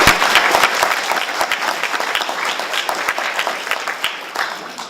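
Audience applause for candidates at a 2018 West Side Chamber of Commerce candidate forum in Indianapolis, a steady wash of dense clapping lasting throughout and tapering slightly at the end.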